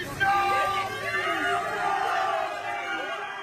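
A crowd greeting Emmanuel Macron's presidential convoy, with a continuous wash of shouting, whooping voices that rise and fall at middle distance throughout, and a voice mixed in.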